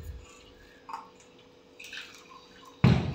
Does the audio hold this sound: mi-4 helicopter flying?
no